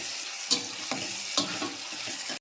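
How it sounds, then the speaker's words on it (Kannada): Tomatoes frying in a hot pan give a steady sizzling hiss, broken by a few sharp scrapes and stirs of a spatula close by. "ಈಗ ಟೊಮೆಟೊ ಹಣ್ಣಂತೂ ಮಸ್ತ್ನಾಗ ಫ್ರೈ ರೀ"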